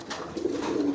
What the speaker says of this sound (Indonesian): Ini merpati yang dari pasar ya